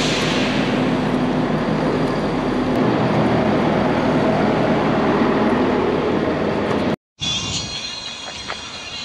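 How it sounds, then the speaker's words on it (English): Riding aboard a train fills the space with a loud, steady rumbling interior roar and rolling noise, continuous for several seconds before a brief cut and a slightly different cabin drone. "I made it back to Recife on the sweaty train."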